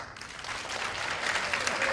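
A farewell variety show audience aboard a cruise ship answers with a short burst of applause, a dense patter of clapping that grows slightly louder and carries a few faint whoops.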